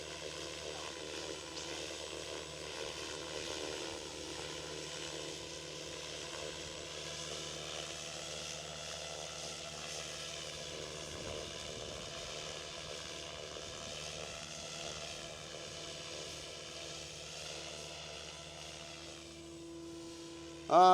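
A SAB Goblin Drake 570 RC helicopter hovers in windy weather with a steady, droning motor and rotor whine whose pitch drifts slightly. It sounds at moderate distance, with a brief bump right at the end and no voices.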